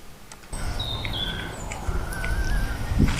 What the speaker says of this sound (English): so it got a lot of wind noise.